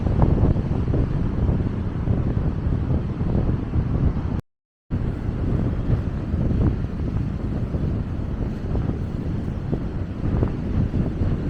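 Steady wind buffeting a microphone on a cold spring beach in the Netherlands, a continuous loud low rumble that cuts out for a brief moment midway, with no talking.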